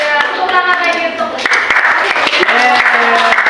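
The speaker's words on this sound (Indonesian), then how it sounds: "tepuk tangan lagi untuk" Students in an Indonesian high school class clap together for a presenting group, a busy close patter of many hands mixed with children's voices and cheering throughout.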